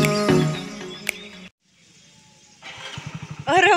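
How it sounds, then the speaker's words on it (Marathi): A motorcycle is started with its electric button: a loud engine note drops away into near silence, then the starter whirs and the engine catches with rapid pulsing firing, up close. "पार्थनं मस्तपैकी बटन दाबून गाडी चालू केली होती"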